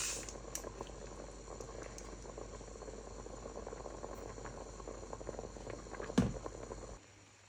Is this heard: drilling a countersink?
no